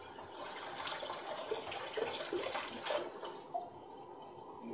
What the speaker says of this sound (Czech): A teď zalejeme studenou vodou.